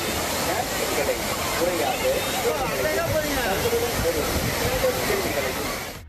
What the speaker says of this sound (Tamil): அருவி போல் கொட்டும் தண்ணீரை விட்டு வெளியேற மனமில்லாமல்